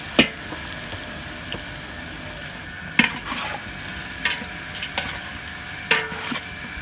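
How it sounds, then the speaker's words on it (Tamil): Chopped onions fry over medium heat for mutton biryani, giving a steady close sizzle broken by a few sharp spoon scrapes and clinks at irregular intervals, with no talking. "இந்த ஆனியனை போட்டு நம்ம பொன்னிற கலர் வர்ற மாதிரி நம்ம அதை ஃப்ரை பண்ணணும்."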